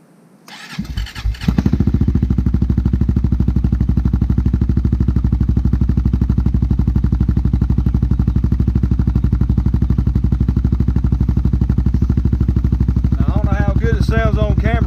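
A 2022 Honda Rancher ATV fitted with a Big Gun Evo exhaust cranks briefly, fires up and settles into a loud, steady, deep-pulsing idle. A voice speaks briefly near the end.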